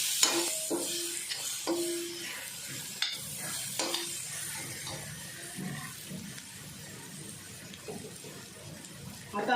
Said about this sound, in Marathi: आणि थोडा गरम मसाला जास्त नाही अगा एवढाच घेतला आहे मी आणि व्यवस्थित परत हे परतून घ्यायचं